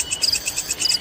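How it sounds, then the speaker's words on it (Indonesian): Crickets chirp in quick, high-pitched pulses that repeat in a steady rhythm, close and fairly loud with no other sounds. "bunyi serangga seperti jangkrik"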